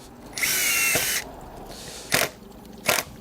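A Hikoki hydraulic impact driver sounds close by. It gives a sustained whirring run, then pauses and fires two short, separate bursts of impacts against a quiet background.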